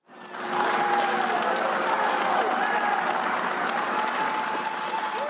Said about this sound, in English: Colleagues applauded the packers as the boxes were rolled out onto the trucks.